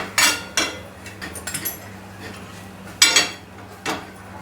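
Okra bhaji is stirred in a pan with a utensil, giving a few sharp scraping clanks close by that are spaced irregularly over a faint background hum.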